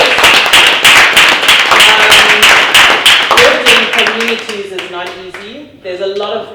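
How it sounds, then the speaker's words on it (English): Loud, close clapping at a European tech industry panel, sharp rhythmic claps for about three seconds, then the claps thin out as a voice begins talking. "I think Kabe deserves a huge hand of applause"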